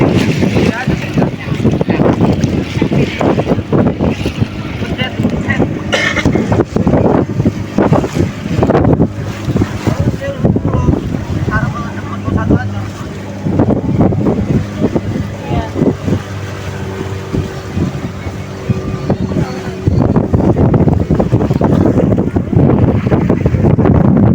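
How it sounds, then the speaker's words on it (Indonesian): A small boat crossing to Merak Kecil island off Banten, Indonesia, with steady motor and water noise under heavy wind buffeting on the microphone while people talk throughout. "Tapi kita harus menggunakan perahu kecil untuk menyeberanginya."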